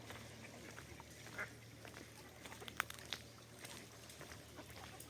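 Scattered faint quacks from many ducks at a distance in a Truskavets park over a steady low hum, with a few sharper calls standing out.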